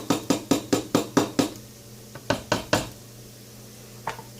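A run of sharp metallic taps and knocks as diced tomatoes and green chilies are emptied from a can into a cooking pot, about ten quick clinks in a steady rhythm, then a pause and a few more scattered clinks, close by.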